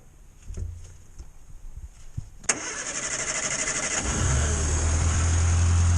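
A Morris Minor engine with the choke pulled out cranks and catches about halfway through, then settles into a steady, loud idle that rises slightly toward the end.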